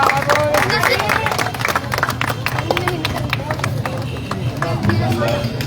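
A crowd at an outdoor volleyball tournament claps in scattered, uneven bursts over a busy murmur of voices and talk.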